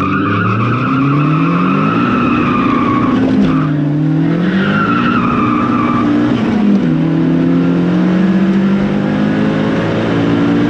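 Tires on a VW Golf Mk2 with a 1.8T engine spin and screech at a quarter-mile drag race launch, a loud sustained squeal over the revving engine, wavering in pitch for about ten seconds, with no voices.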